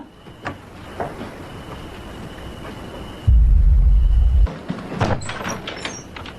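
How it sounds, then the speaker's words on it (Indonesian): Neighbours forcing open a locked house door in a horror film scene, a heavy low rumbling thud and pounding lasting about a second, loud against a quieter tense background with scattered bumps afterward. "dibantu tetangga menjebol pintu rumah"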